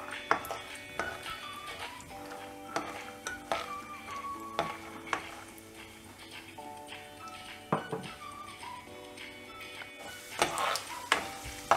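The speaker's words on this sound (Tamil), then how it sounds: "இப்போ வேர்க்கடலை போட்டு வறுத்து எடுத்துடலாம்" Peanuts fry in oil for kara boondi, a light crackling sizzle with scattered ticks and spoon taps, partly masked by tuneful background music.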